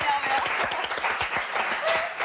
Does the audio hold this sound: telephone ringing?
no